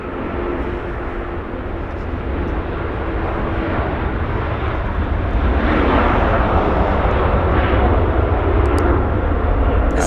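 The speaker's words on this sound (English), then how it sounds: "Dreamliner getting a move on really quickly." A Boeing Dreamliner takes off at Los Angeles International Airport, its dense, loud jet roar rising steadily and holding strong as it accelerates.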